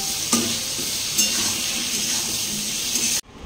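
Tomatoes go into a pan of frying potato curry with a steady, loud sizzle and a few stirring scrapes, and the sound cuts off abruptly near the end.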